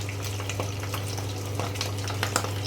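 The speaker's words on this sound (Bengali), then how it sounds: "এই মাছগুলো কিন্তু ভীষণ ফাটে, খুব বুঝে শুনে রান্না করবে" Pabda fish frying in oil in a covered pan, a steady close sizzle scattered with sharp spattering pops throughout.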